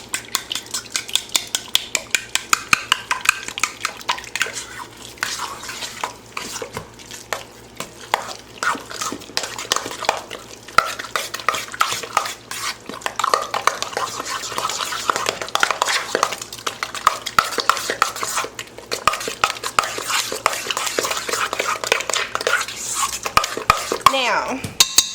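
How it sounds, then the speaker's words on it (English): A spoon stirs sweet potato casserole mixture in a bowl, making steady scraping and clinking against the bowl for the whole stretch, close and fairly loud, with no talk. "Alright, and then you're going to stir this up."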